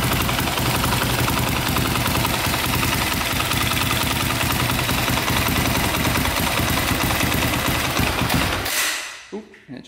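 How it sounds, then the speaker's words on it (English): A KTM 450 dirt bike engine idles steadily with a loud, rapid mechanical putter for about nine seconds, then cuts off abruptly into near silence. "Idling pretty good. No noises from the top end."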